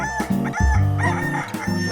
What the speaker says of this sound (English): And the cockerel cock-a-doodle-dooed.